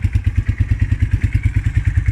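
A Forte 300 motorcycle engine runs close by with a steady, rapid thumping beat and light mechanical clatter, heard alone.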